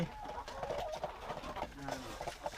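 Laying hens in a small village coop cluck in short, soft bursts, fairly close, under a quiet background with occasional murmurs.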